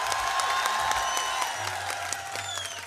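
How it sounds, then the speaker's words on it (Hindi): Audience applause and scattered cheers for a guest on stage at the Pakistan Literature Festival, a dense clapping crowd with whoops rising over it, sustained and fairly loud throughout. "इनके लिए भरपूर तालियां होनी चाहिए।"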